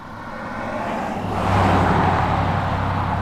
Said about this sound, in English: Another truck with no lights on.